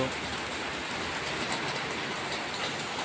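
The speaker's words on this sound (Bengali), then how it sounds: "বৃষ্টিটা হচ্ছে কিন্তু জোরে হচ্ছে না।" Steady light rain falls, a soft continuous hiss with no breaks or heavy downpour bursts.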